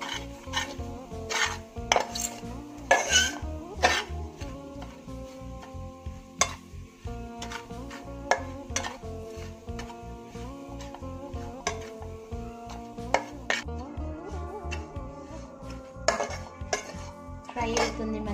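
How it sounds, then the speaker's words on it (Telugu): Grated coconut being dry-fried over a slow flame in a kadai, with frequent metallic clinks and scrapes of a spatula against the pan over a soft sizzle, set against a steady tonal background. "ఒక కడాయి పెట్టుకొని అలా పైన కురుచిన కొబ్బరి స్లో ఫ్లేమ్లో పెట్టి మంచిగా ఫ్రై చేసుకోవాలి."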